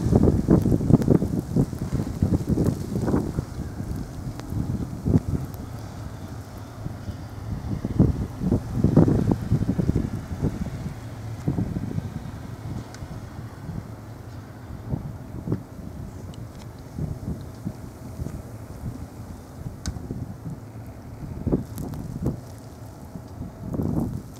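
Gusty blizzard wind drives snow in Alpena, Michigan, buffeting the microphone in irregular low bursts that rise and fall throughout, with no voices.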